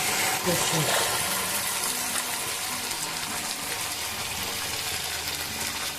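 Water poured from a rinsed chili sauce bottle into fried rice in a hot pan, giving a steady, loud gushing sizzle that holds through the whole stretch.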